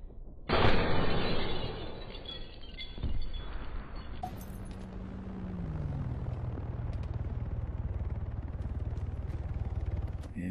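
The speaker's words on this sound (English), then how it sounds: "Pretty easy shot for the ASP." A single ASP rifle shot cracks loudly in an Arma 3 King of the Hill match, followed by a long rolling echo, with helicopter or aircraft drone and distant battle noise continuing underneath.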